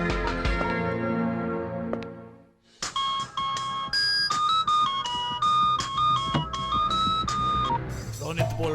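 A mobile phone rings in an indoor scene from a Hindi dubbed romantic film, a melodic electronic ringtone of bright repeating tones that plays loudly and continuously for several seconds after a few earlier voices and noises.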